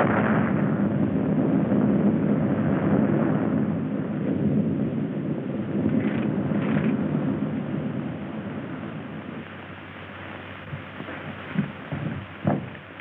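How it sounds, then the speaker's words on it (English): An explosion sound effect from an old Hollywood film, a dull, muffled roar of broad rumbling noise that lasts several seconds and slowly fades, with a few faint thuds near the end and no talk. "There's been an explosion, sir."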